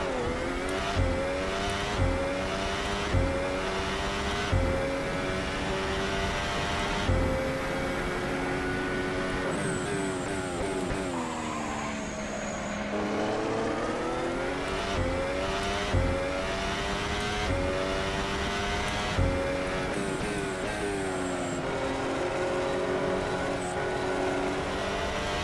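Race car engine screaming through rapid gear shifts in Assetto Corsa, with repeated high revving sweeps, downshifts and brief tire squeal, loud and continuous without talk.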